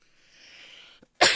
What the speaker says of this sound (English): Can you develop something to make this cough go away?